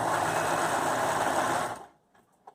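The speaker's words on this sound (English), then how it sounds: "So I'm going to serger this." A serger overlock sewing machine stitches along pillowcase fabric in a loud, steady mechanical whir for almost two seconds, then stops abruptly, leaving near silence with a faint click at the end.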